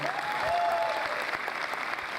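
An audience claps steadily at a medical rehabilitation graduating class induction ceremony, a dense, even patter of many hands heard at a distance, with a faint voice briefly over it.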